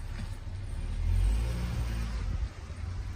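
A 2007 Yamaha 25hp two-stroke outboard cranks at full throttle during a compression test, giving a steady, loud low rumble that swells briefly near the middle and then dips slightly.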